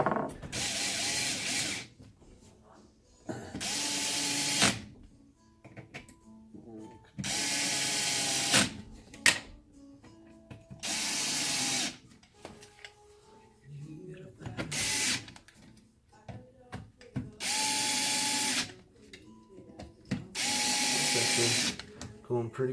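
A power drill drives screws into an RC rock bouncer chassis being prepped for an SRRS race, about seven loud whirring bursts of a second or so each, separated by quieter pauses with faint handling noise.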